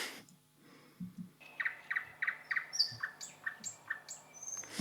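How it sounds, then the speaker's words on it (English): Night birds calling in summer at Arabianranta, Helsinki: a run of repeated sharp squawking chirps in steady rhythm, several birds trading calls at moderate distance over a quiet, faintly humming background with occasional low thumps. "Night birds in Arabianranta, Helsinki"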